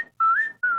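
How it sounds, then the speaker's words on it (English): A person whistles two sustained, clear tones split by a short gap, close and fairly loud. "I'm going to whistle."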